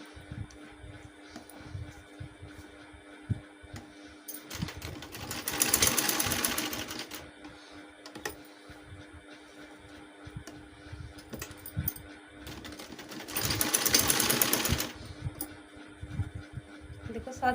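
A sewing machine stitches the neckline of a kameez, running in two sustained bursts of fast, whirring stitching separated by quieter pauses with soft ticks and handling sounds.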